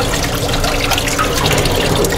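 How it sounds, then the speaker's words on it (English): Water runs from a tap over a watermelon being washed in a sink, a steady close splashing rush with no talk. "I like to wash my watermelon first."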